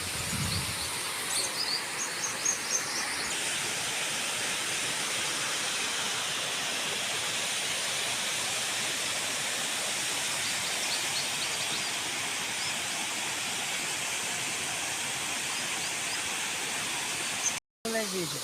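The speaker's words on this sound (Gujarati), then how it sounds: "બહુ મસ્ત ઝરણા વહે છે" Steady broadband rush of a stream flowing at the Khodiyar ashram temple in Kathrota, continuous and fairly close, with a few faint higher sounds early on and a brief dropout near the end.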